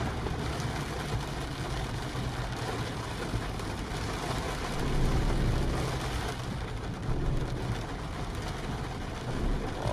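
Steady rain hissing down over a low truck engine hum in Euro Truck Simulator 2, a constant wash of noise with no voices.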